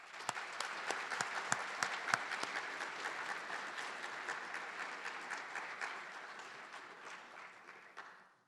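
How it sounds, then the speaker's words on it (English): An audience at a school Veterans Day 2023 ceremony gives a round of applause for veterans. A few sharp, close claps stand out of the crowd's steady clapping before it gradually fades away. "We just give them one more round of applause."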